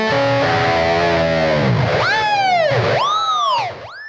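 Heavily distorted electric guitar roars through a Blackstar Beam Solo pocket amp on its Mesa Triple Rectifier-style setting, a thick chugging chord giving way to squealing, bending lead notes that swoop up and down.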